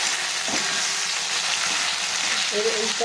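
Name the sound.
cumin and ginger paste frying with onions in oil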